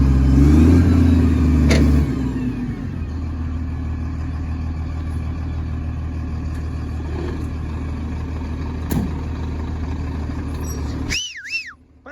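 A car on the road to Amga in Yakutia, partway through rescuing a stuck vehicle, runs with a steady loud engine rumble that settles after an initial surge, ending with a short whistling warble and then quiet.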